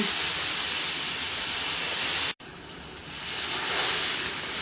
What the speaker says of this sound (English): Get it to saute a little bit on each side.